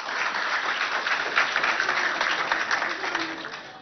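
A school audience at a Chadian televised quiz contest claps in a dense, lively burst of applause, steady and fairly close, lasting just under four seconds.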